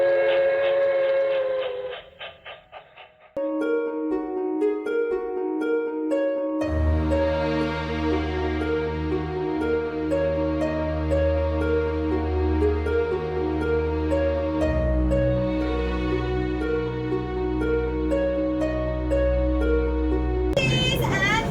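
On a cruise ship's simulated Royal Railway train ride, a loud steam-style whistle sounds, then sustained layered tones and rumbling resembling a departing train continue steadily and close.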